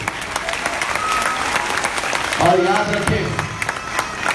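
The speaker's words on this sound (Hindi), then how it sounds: "उन बच्चों के लिए एक बार जोरदार तालियां।" Audience applause for students at a Pioneer High School annual day, a steady broadband clapping wash filling the hall, with a voice speaking over it partway through.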